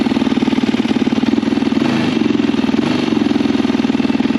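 A Yamaha YFZ 450 quad engine idles up close, a loud steady pulsing putter with a brief dip in revs before settling back to an even idle, no talking.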